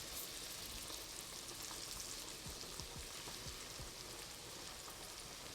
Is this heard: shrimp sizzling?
yes